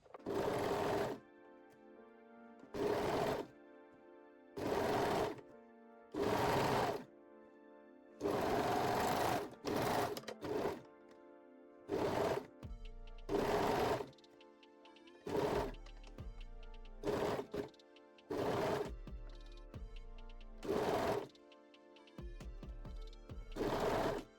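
Sewing machine stitching a lace bralette, bursts of fast rhythmic whirring repeated many times with short pauses between, close and clear with no talking.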